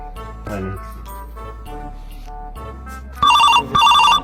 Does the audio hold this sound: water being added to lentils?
no